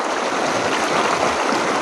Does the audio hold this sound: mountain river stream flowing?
yes